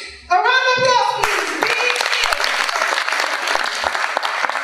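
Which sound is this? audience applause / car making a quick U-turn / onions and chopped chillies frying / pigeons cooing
audience applause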